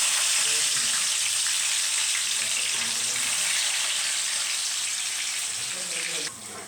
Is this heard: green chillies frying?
yes